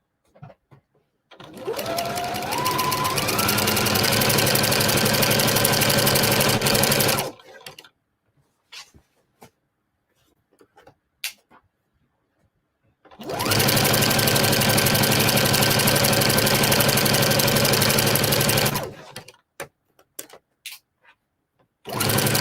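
A sewing machine stitches a standard pillowcase in two long, loud bursts of rapid, steady needle chatter, close up, separated by a pause with faint handling clicks.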